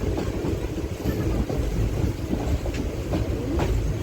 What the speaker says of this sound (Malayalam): ഭയങ്കര ഫാസ്റ്റായിട്ട് തന്നെയാണ് പോകുന്നത്